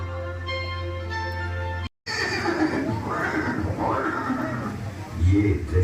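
A horse neighs in a museum scene depicting Chetak, a shrill whinny ringing briefly at the start, then cut off and followed by someone narrating over a low background.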